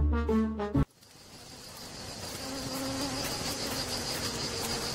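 Bees swarm out of their hive, a steady, dense buzzing that swells in after a brief musical phrase and holds on as a continuous close drone.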